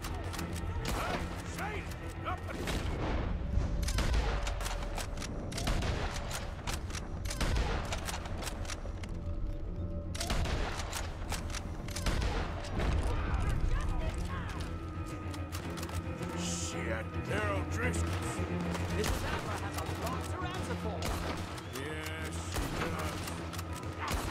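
Gunfire in Red Dead Redemption 2, a dense fusillade of loud, rapid shots and cracks with booming impacts rolling on almost continuously, with a brief lull partway, and voices talking over it.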